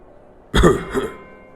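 A single short cough or throat clear, close and fairly loud, in an otherwise quiet setting.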